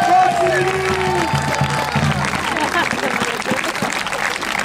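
Outdoor crowd applause for athletes at a forest festival with Olympic-style games, a clapping wash mixed with cheering and a loud voice over it, tonal sounds fading early and the clapping continuing to the end.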